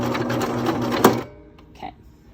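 A sewing machine stitches a box pleat through layered fabric, a fast close mechanical whirring run that stops abruptly, followed by a faint click.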